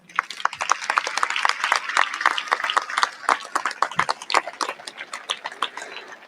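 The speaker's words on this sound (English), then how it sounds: "Let's give one more big round of applause to those here tonight supporting you." A high school graduation crowd gives sustained, dense applause, a steady wash of many hands clapping close by, with no voices standing out.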